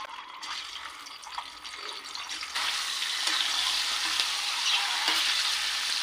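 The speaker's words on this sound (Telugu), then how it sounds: "ఇప్పుడు ముందుగా ఉడికించి పక్కన ఉంచుకున్న 4 గుడ్లు సన్నగా ఘాట్లు పెట్టుకున్నాను. వీటిని వేసుకుని ఫ్రై చేసుకున్నాను." Sliced boiled eggs sizzle steadily in hot oil in a pan, a continuous close crackling hiss that grows louder partway through, with occasional stirring clinks and no talk.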